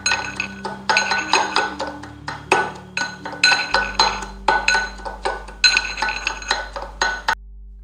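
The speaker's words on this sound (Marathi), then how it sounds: "लसूण मी हा बारीक करून घेणार आहे आता" Fried garlic being crushed finely with a hard tool, producing repeated sharp clinking knocks in quick rhythmic bursts, close and fairly loud, with no talking.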